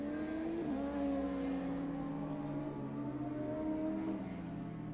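Yamaha superbike in a Masters Superbike Championship race sweeping past at Devaney's corner on the circuit, a loud sustained engine wail with gear-shift dips and a falling pitch as it goes by.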